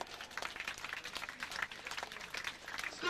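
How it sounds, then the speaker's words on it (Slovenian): Spectators at a bridge-diving competition applaud competitors, a faint, distant patter of scattered clapping with an uneven rhythm over outdoor background noise. "mislim, da si sploh zaslužijo aplavz vsi"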